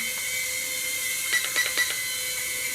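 Tiny motors of a Rage RC Triad FPV 3-in-1 pocket drone whine at a high pitch on the low setting, faint steady hum with a few brief rising surges near the end.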